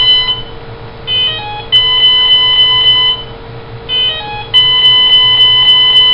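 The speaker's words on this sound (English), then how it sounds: "Right now, the ESC is talking to me." The ESC of an electric motor gives off loud, clear electronic tones: short rising chirps followed by a sustained beep, with the pattern repeating twice over a steady low hum.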